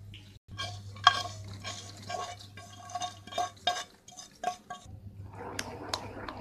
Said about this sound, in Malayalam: ഇനി ഇത് നന്നായി മിക്സ് ചെയ്തെടുക്കുക.